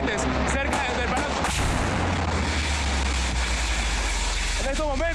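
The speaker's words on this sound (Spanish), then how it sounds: "en este momento está cayendo uno de los cohetes cerca del Palacio." A rocket crashes down near Miraflores Palace in Caracas with a heavy boom, followed by a dense, sustained rumble under excited voices that keep talking over it; loud throughout the five seconds.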